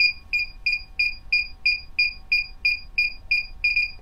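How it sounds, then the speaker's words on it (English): An electronic device gives a rapid, regular series of about a dozen bright, identical beeps while syncing. They are loud and close, with nothing else behind them but faint background hum. "Yeah, I heard the beep."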